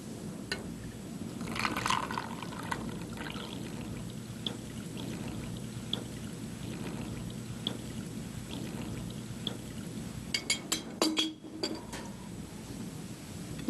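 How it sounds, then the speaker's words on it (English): Black gunk left over from a chemistry experiment is poured through filter paper, making a steady, continuous liquid trickle with a few clinks of glassware near the end. "We'll pour it through the filter paper."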